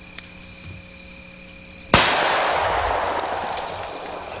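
A single sharp gunshot from a .460 Rowland handgun firing a 200 grain deer hunting load into a test block, with a sudden crack followed by a decaying outdoor echo over a quiet background of insect hum.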